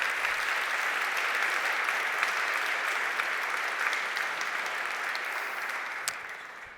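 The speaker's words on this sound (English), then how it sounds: "I'll try to forward your applause to Wolfgang later on." Steady audience applause after a talk on a learning hand prosthesis, a dense even patter of many hands sustained for several seconds and tapering slightly at the end.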